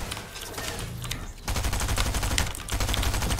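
A shotgun firing in a video game: after a quieter stretch, a rapid burst of loud, sharp blasts rattles off close by and keeps going to the end.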